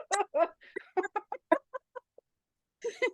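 Pet chickens cluck in a run of short, close, fairly loud calls with brief pauses, ending in a couple of squawky clucks after a short quiet gap.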